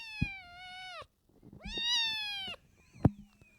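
A 10-week-old kitten meows twice in long, tonal calls separated by a short pause, close to the listener, followed by a sharp tap and a faint trailing squeak.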